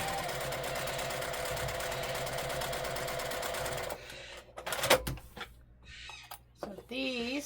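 A sewing machine runs steadily for about four seconds, stitching quilt block units together, then stops, leaving quiet handling noises and a few short spoken sounds.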